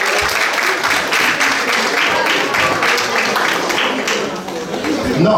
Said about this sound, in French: Est-ce qu'on va applaudir pour lui s'il vous plaît?